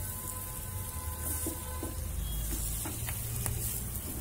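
Green chilli pickle stirred in a kadai with the gas flame turned off, giving a steady soft sizzle along with repeated light scraping and clinks of the spoon against the pan.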